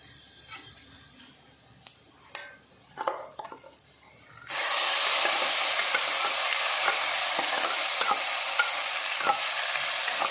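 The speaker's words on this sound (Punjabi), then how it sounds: "ਫਿਰ ਅਸੀਂ ਮਸਾਲਾ ਭੁਨਾ ਲੈਂਦੇ ਹਾਂ ਪਹਿਲਾਂ ਅਸੀਂ ਜੀਰਾ ਪਾ ਲਿਆ ਇਹਦੇ ਵਿੱਚ" Cumin seeds hit hot oil in a pan for a shallow-fried whole-onion curry: after a few quiet stirs and clinks, a loud, steady sizzle suddenly erupts and holds, with small crackles on top.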